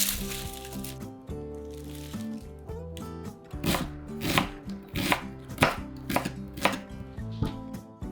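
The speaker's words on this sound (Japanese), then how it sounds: "玉ねぎをみじん切りします。" A knife finely chops onion on a cutting board in quick, regular taps, close and crisp, over soft background music.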